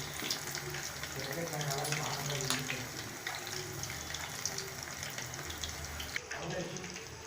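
Chicken 65 pieces deep fry in hot oil, a steady close hissing sizzle with crackling spatters that runs throughout, with a person talking faintly underneath.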